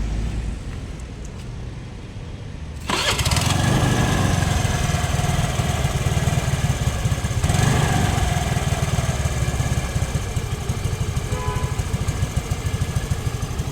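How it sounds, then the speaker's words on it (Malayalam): A vehicle engine starts up after a few quiet seconds and then runs steadily, a loud continuous rumbling idle that holds to the end. "ഞാൻ ഈ വണ്ടിയുടെ സൗണ്ടൊന്നും കേൾപ്പിച്ചു തരാം"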